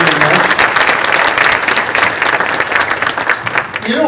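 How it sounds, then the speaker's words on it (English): Loud, dense audience applause at a talks event, a full room clapping continuously for about four seconds with slight crowd murmur underneath. "Everybody give them a big round of applause here"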